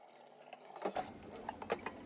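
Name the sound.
cabbage being swished around in washing water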